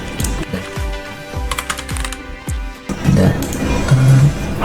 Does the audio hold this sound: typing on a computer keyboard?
yes